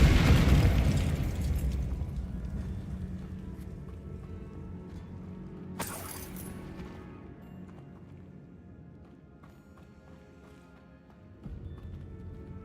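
A Confringo fire spell explodes in the Hogwarts Legacy video game, a loud booming blast at the start that rolls off into a fading rumble, followed by smaller crackles and a sharp burst later on.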